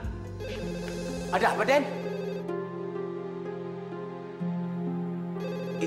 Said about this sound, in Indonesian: Itu ada telepon, kenapa nggak diangkat?